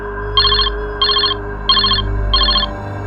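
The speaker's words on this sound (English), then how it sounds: "the phone rang, breaking the silence" A telephone in a quiet living room rings in four evenly spaced electronic trills, each burst lasting about a third of a second, loud and close over a steady low hum.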